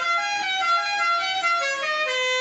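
Car horn honking in a sustained, loud, close blast lasting a couple of seconds, with a slight change in pitch partway through and no talk over it.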